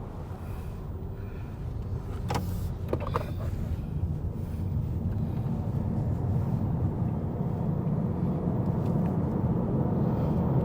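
A Honda Civic RS e-HEV hybrid in sport mode climbs a hill road, its cabin filled with a steady, low rumbling drone of engine and road noise that builds slightly and then holds even.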